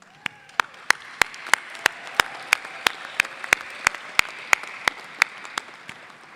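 At a Johns Hopkins Carey Business School graduation ceremony, one nearby person claps in a sharp, evenly spaced beat over a soft wash of distant crowd applause.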